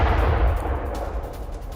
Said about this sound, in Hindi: कलांतरी पोर्ट पर अटैक के बाद भीषण धमाका